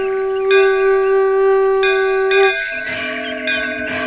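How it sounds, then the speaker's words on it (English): Temple bells ring at dawn in an animated film set in Kanchi. Clear, loud metallic strikes come one after another, each leaving long sustained ringing tones, with no voices. "Ramanuja heard the auspicious ringing of the temple bells in the serene dawn."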